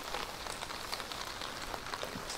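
Rain falls steadily on a hilltop in Funaokayama Park, Kyoto, a soft, even patter of drops throughout without any voices.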